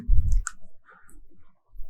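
A few sharp clicks and a dull thump from typing a bank branch code on a computer keyboard, sparse and close, with quiet gaps between the keystrokes.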